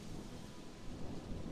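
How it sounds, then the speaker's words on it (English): Steady heavy rain with a low rumble of thunder rolling underneath, dense and continuous with no voices. "For a while, the only sound was that of the thunder and the rain"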